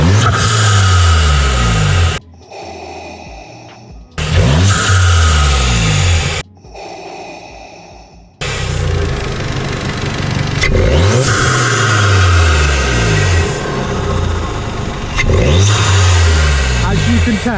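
A VW MK7 GTI with a Direnza intake revs repeatedly, loud and close, with deep induction roar rising and falling between brief quieter dips, and a voice heard over it.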